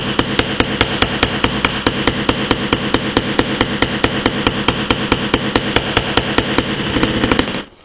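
Rapid, steady hammer blows strike nails on a Vkworld VK700X rugged phone, more than thirty loud, close metallic impacts in an even rhythm, stopping abruptly at the end.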